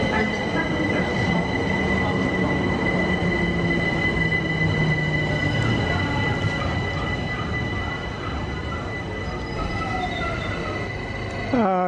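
A London Overground train near Clapham rolls along steadily with a continuous rumble and rail noise, and a high wheel squeal rises near the end.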